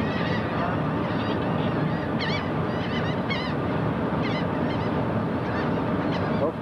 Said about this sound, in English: see the birds are with this ferry also as the people feed them.